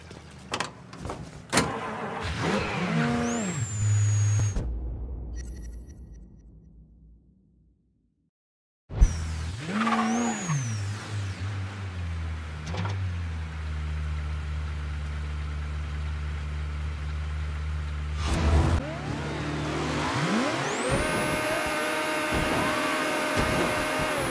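Car engine in Mafia III, driving with revving tones that rise and fall in pitch, broken by a brief total silence, then resuming with sustained engine drone and shifting revs.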